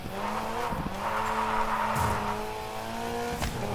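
Car braking and skidding on a gravel rally stage in the Gravel video game, a steady engine drone with tire scrub and brief sliding bursts, continuous and close with no talk.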